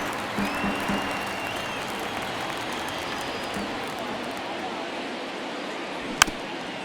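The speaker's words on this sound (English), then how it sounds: "they will celebrate and applaud a great play on the field" Stadium crowd in MLB The Show 23 applauding a great play at a Detroit versus Boston baseball game, a broad steady wash of clapping and cheering that holds throughout, ending with a sharp click near the close.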